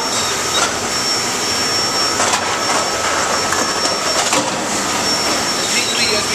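A vacuum lifting arm raises full Harpoon IPA beer kegs of about 142 pounds on a brewery keg racking line, making a loud, continuous hiss and mechanical whine with occasional clanks and knocks.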